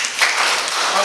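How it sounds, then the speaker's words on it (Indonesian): Applause in a school classroom during a grade XI lesson, a short burst of dense clapping at moderate level running straight through without a break. "Tepuk tangan."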